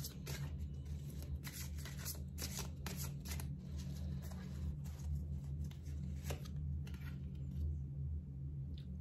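Psychic tarot cards being shuffled and drawn by hand, a steady run of quick papery riffles and flicks repeating for several seconds at close range, with no talking.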